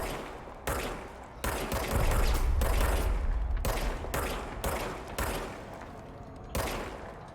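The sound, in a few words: gun fired wildly in video game Control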